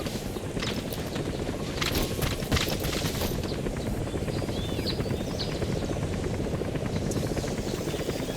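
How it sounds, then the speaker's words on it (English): A support helicopter in Metal Gear Solid V arrives with a steady, loud rotor thrum and engine roar filling the whole stretch, with faint distant gunfire-like pops mixed in. "Please select support helicopter"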